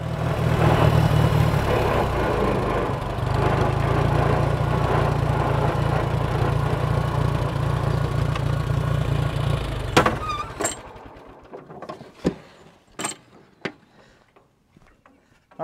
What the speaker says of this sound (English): I'm going to drive the tractor out here.